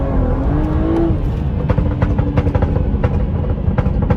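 A BMW with a B58 engine and a catless downpipe accelerates hard nearby, a loud, raspy engine roar with a rising rev and sharp crackles and pops running throughout.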